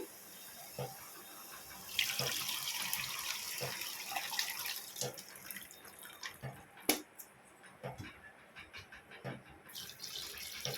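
Water runs from a tap and splashes into a pot of soaked tamarind for tomato rasam, with a hissing steady stream from about two seconds, then intermittent drips and splashes nearby.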